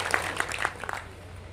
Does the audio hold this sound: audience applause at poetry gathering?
yes